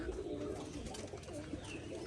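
Pigeons coo softly in a home loft on a rainy day, a low murmuring call repeated over steady background noise, faint and close.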